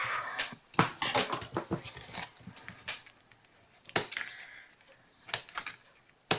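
Scissors snipping a small protruding bit of tape while assembling a beginner's scrapbook album, heard as a string of crisp, close cuts and clicks in irregular bursts, with no talking.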